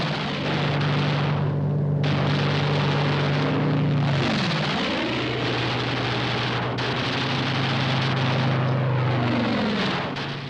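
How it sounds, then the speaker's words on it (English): A WWII fighter plane dives past with a loud, continuous engine roar that rises and falls in pitch as it swoops by, filling the whole scene with no speech. "Fighter aircraft swooped down to destroy the enemy."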